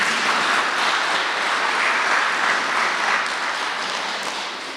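A live audience at a Brahma Kumaris murli gathering at Pandav Bhawan applauds steadily, a dense, sustained wash of many hands clapping that holds for several seconds and begins to taper off at the end.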